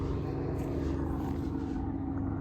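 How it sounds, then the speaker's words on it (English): A helicopter flies somewhere out of sight above St. Mary's Church and graveyard in Penzance, Cornwall, giving a steady, fairly faint droning hum that holds evenly across the moment. "Got a helicopter somewhere over there. I can't see it, I can hear it."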